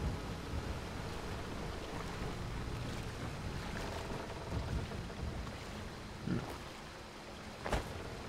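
Steady wash of water and wind in Skyrim, a dense constant rushing noise with a couple of soft splashy bumps near the end, no talking.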